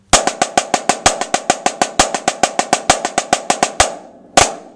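A snare drum plays a rapid run of crisp, evenly spaced paradiddle-diddle strokes with accented hits, ending with a short pause and one final loud stroke.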